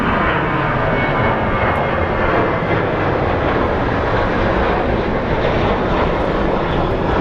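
A WestJet Boeing 737 jet airliner of the 700 or 800 series roars steadily at Phoenix Sky Harbor International Airport, a loud, broad engine rumble sustained throughout with no break.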